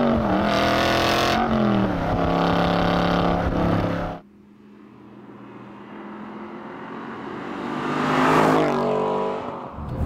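An Aston Martin V8 Vantage S driven fast on a flowing B road, the V8 loud and close as it accelerates hard, then dropping away to a quieter cruise before rising again near the end.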